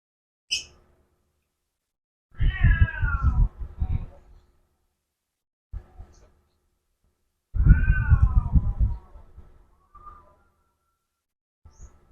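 A house cat meows twice in long, loud, wavering calls, with a short chirp at the start and a few faint knocks and thuds in the quiet between.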